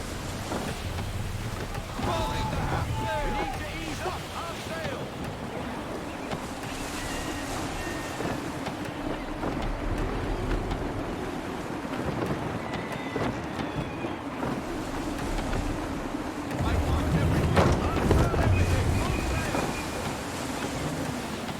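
Gusty wind howls steadily over open sea as a sailing ship creaks and rolls through the water in Assassin's Creed 3, a broad continuous roar that swells louder near the end.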